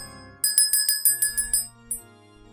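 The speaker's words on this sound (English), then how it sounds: "Okay, if I do noise suppression, can you hear the bell?" A bell sounding over a voice chat with noise suppression on: a quick run of about six bright metallic dings, one more ding after a short pause, then quiet with a faint hum underneath.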